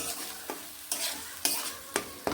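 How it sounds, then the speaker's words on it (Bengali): Spices and tomato being stir-fried in a pan for a tangra catfish curry, soft sizzling broken by five sharp spatula scrapes at a regular rhythm, close and fairly quiet. "এবার ভালোভাবে মশলা টমেটো সবগুলোকে বেশ ভালোভাবে কষিয়ে নেব"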